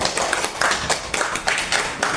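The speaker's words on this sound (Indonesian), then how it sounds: "tepuk tangan dulu dong" Elementary school students clapping hands in a classroom, rhythmic bursts of sharp claps in a quick repeated pattern, close and lively with no talking.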